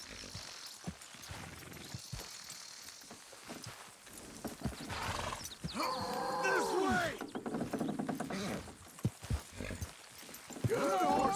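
Horse hooves clip-clop in Red Dead Redemption 2, with a whinny and someone shouting, then a busy stretch of trotting hooves and harness rattle under occasional speech.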